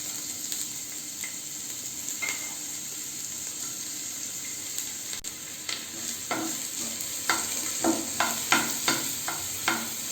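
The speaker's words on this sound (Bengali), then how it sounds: "তেল গরম হয়ে গেছে, এবার এর মধ্যে আমি প্রথমে দিয়ে দেব পেঁয়াজ কুচি।" Chopped onion dropped into hot white oil for chicken soup, a continuous sizzle that grows busier with repeated sharp spatters and stirring scrapes toward the end, close by and free of talk.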